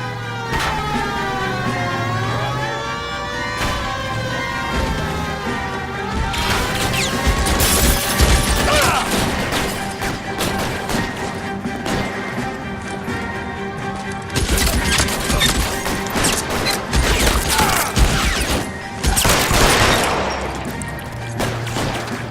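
A 1940s Los Angeles shootout in the detective game LA Noire: sporadic gunshots and crashing impacts over a tense orchestral score, the shots louder in bursts toward the middle and end, with a few shouted voices.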